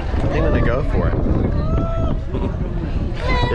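Strong wind buffets the microphone on an open cruise ship deck, a loud continuous rumbling roar, with people talking throughout.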